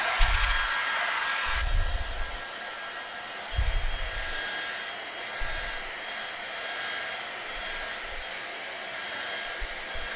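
An electric dryer blows a steady, loud broadband rush of air from start to finish, with a few low thumps underneath and no talking.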